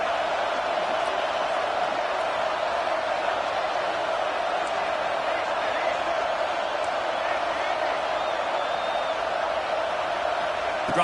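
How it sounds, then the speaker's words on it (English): Stadium crowd roaring at a college football game in the NCAA 26 video game, a continuous broad wash of noise holding steady and fairly loud from start to finish, with no distinct individual voices. "The roar of the crowd trying to fuel this defense to keep them pinned in their own end."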